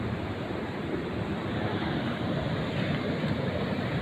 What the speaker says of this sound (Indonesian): di sana ombaknya besar